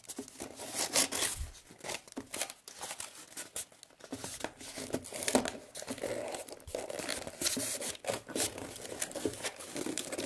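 Cardboard and tape crinkle and tear in quick, uneven bursts as a cardboard virtual reality headset is assembled by hand, soft and close with steady rustling throughout.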